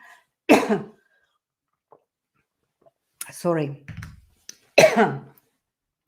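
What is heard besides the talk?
coughing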